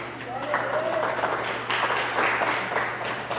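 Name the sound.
applause in church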